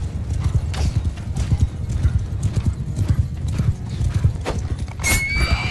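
Horse hooves clip-clop in a rapid galloping rhythm in the medieval combat game Bannerlord, ending in a sharp neigh and whinny near the close, all loud and close against busy battle noise.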